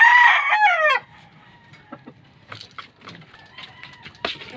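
A gamefowl rooster crows loudly up close at the start, then the flock clucks and scratches softly while feeding in the background.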